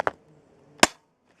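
Colt MK airsoft gun fired through a chronograph: two sharp, close snapping pops, the second louder, separated by nearly a second of near silence.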